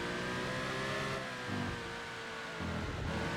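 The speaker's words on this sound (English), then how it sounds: "Man, this car sounds grunty." Race car engine in the video game Gran Turismo 2, a steady, gruff mid-pitched drone with shifting harmonic tones, loud and continuous with no talk over it.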